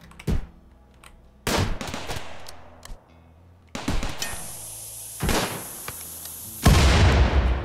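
Several sharp explosions as enemies blow themselves up in the video game Rimworld, with separate blasts spaced a second or two apart, each decaying into rumble, and a final heavier boom.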